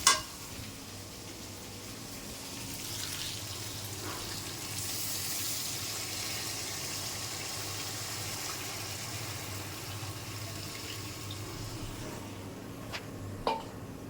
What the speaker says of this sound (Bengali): আমার মশলা ভুনা হয়ে গেছে, এখন জল দিয়ে দেবো।